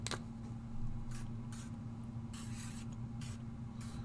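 Soft, faint bursts of a Chroma Mist spray bottle spraying, several short hissy puffs spaced unevenly over a low steady hum.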